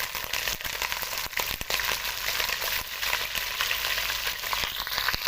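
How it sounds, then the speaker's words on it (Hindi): Chicken pieces frying in hot ghee for a shahi chicken korma, a loud, steady crackling sizzle with stirring scrapes that runs continuously and close up, with no talking. "अब इसके अंदर हम चिकन ऐड कर देंगे।"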